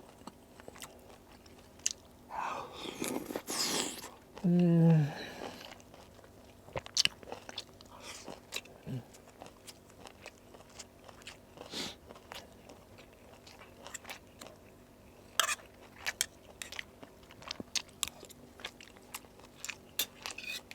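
Close, crunchy chewing of crunchy puffball mushrooms in curry with betel leaves, with scattered bites and crisp clicks over a long stretch, plus a brief louder burst of noise early on.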